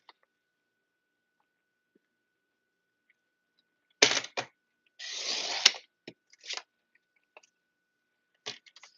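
A sheet of 8.5 by 11 cardstock is cut in half for an A2 card base, heard as a few close, crisp bursts of trimming and paper handling separated by silence.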